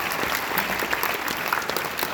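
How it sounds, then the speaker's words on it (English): An audience claps steadily at an event held in an arena, a dense, loud wash of applause from many hands that holds for the whole stretch with no voices over it. "Now, just give yourself a round of applause."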